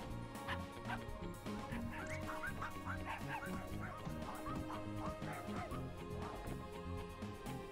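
Dog barking in the video game Finding Paradise, repeated yips and barks over a steady game music backdrop, moderately loud and continuous for several seconds.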